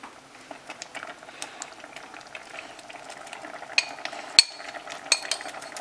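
Masala curry paste for a vegetable paneer masala bubbles in a pan, making a quiet, steady simmer of small pops and plops with a few louder bursts toward the end.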